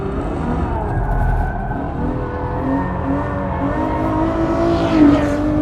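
A Ferrari F12 holding speed in fourth gear on a road through a left-hand bend, its engine a steady loud drone with rising pitch and the ever-present roar of wind and tires.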